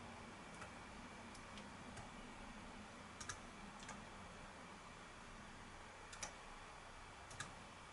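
Keys tapped one at a time on a Dell E6400 laptop keyboard while entering a long BIOS password, soft scattered clicks spaced irregularly over a faint steady hiss, no talking.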